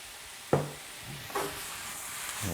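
Beef and vegetables tossed in a sizzling pan, with a few distinct stirring scrapes over a steady soft sizzle, close and moderately quiet.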